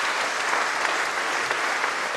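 Concert audience applause at a classical Christmas evening, a short, steady burst of many hands clapping, dense and even throughout.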